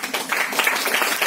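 Audience at a business conference in Pune breaks into steady, dense applause, a continuous wash of many hands clapping for just over a second.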